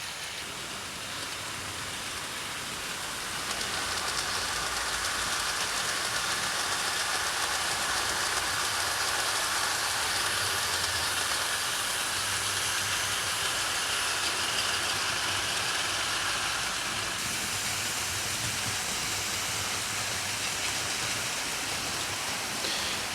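Hornby model Schools class 4-4-0 locomotive running on a layout, a steady rushing whir that continues for over twenty seconds at a fairly even level, with no voices.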